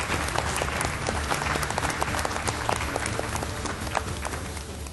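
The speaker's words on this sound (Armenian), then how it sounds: "Ծափարենք Մարտին Եսայանին," A studio audience gives steady, even applause for a guest, many hands clapping together at moderate volume throughout.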